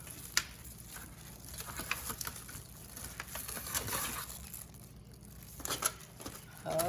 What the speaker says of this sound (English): So let's go ahead and cut it,